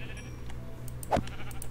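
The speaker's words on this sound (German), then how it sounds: "Da hinten sind noch mehr Schafe." A single short sheep bleat from the blocky pixel-world game Minecraft, heard once mid-clip over a steady background game hum, fairly close and clear.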